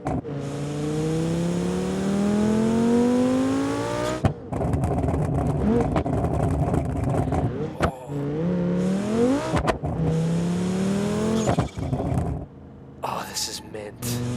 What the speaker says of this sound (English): Wow, that exhaust is insane.